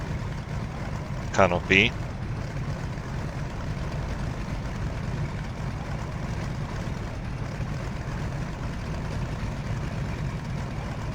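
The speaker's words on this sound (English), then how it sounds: "I can hear the sound of the BMW engine. It's very meaty sound." A Fw-190's BMW radial engine drones steadily in IL-2 Sturmovik, a constant low, meaty hum throughout. Someone says a word briefly early on.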